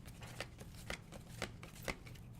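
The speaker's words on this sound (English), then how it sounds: "we shuffle the cards" A deck of cards shuffled in a steady run of crisp riffling bursts, about two per second, close and clear with no talking.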